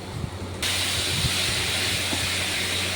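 Chopped yellow and red bell peppers with ginger and garlic stirred in a hot pan for chilli mushroom, giving a loud, steady sizzling hiss that swells up after a brief quieter start, with no talk.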